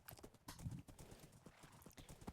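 Horse hooves clip-clop in a steady, quick rhythm in a Minecraft-style survival game, faint and low, with a brief whinny-like sound mixed in.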